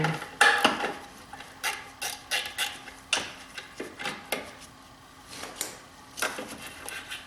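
Ratchet wrench loosening a 13 mm bolt on a BMW 5 Series F10 horn mount, a series of sharp clicking pulls in irregular bursts, close up and fairly quiet, with no talking.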